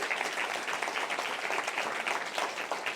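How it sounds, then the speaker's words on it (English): An audience claps for the judges at a university poster competition award ceremony, a dense, even round of applause heard on its own at moderate distance. "let's give the judges a big round of applause as well"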